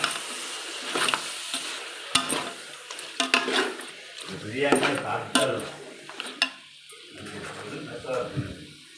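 Mutton simmers in a pan for biryani while a spoon scrapes and stirs in uneven bursts over a low bubbling cook, with a person talking throughout.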